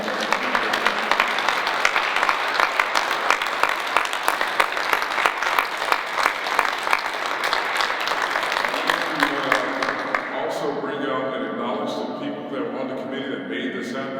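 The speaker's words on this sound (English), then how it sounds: "So everyone, can we give them a round of applause?" A live audience at a Black History Month panel event applauds the panelists, with steady dense clapping that fades after about ten seconds as voices begin speaking.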